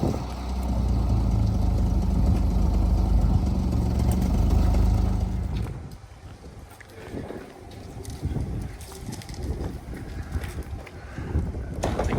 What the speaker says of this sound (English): This forklift's got no brakes.